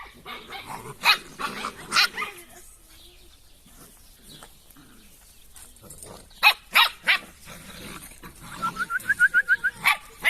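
Drahthaar puppies yelp and squeal in bursts, clustered high-pitched cries at close range with a rapid run of short yips near the end and quiet gaps between.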